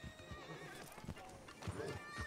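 Horses in the Red Dead Online video game neigh and whinny with clip-clopping hooves, several short bursts over a steady din of game ambience.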